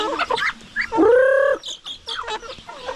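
Farm chickens cluck and squawk close by, with one drawn-out, rising call in the middle among shorter choppy clucks and rustling.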